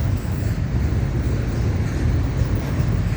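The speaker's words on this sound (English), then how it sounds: "this is the premier train. It's FEC train." FEC train 101, a long freight hauling Norfolk Southern interchange traffic, rumbles past at night with a steady, heavy low roar of rolling wagons, close and continuous.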